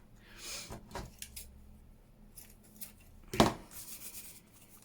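Quiet snips of scissors cutting, a few soft clicks and one sharper, louder snip near the end in a quiet room.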